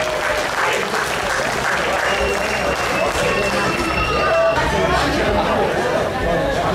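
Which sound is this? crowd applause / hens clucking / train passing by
crowd applause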